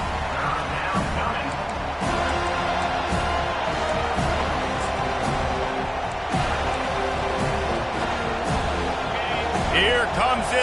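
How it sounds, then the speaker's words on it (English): Home crowd at a football game on third down, a dense continuous roar of cheering and whooping, steady and loud throughout with scattered claps and shouts. "Here comes his home crowd as the defense tries to get off the field on third down."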